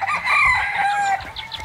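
A rooster, likely with fighting-breed blood, crows in a long, loud call followed by a few short clucks, heard up close with no talk.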